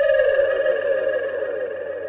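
A sweeper sound effect in a Pro Tools beat: a steady, siren-like synthetic tone with a high, slowly gliding pitch and a faint low rumble underneath, alone and even in level.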